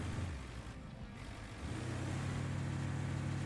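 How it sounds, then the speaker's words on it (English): Low, steady rumble of a truck engine in the video game RoadCraft, dipping briefly then settling into a louder constant drone. "maybe it's just a loud truck"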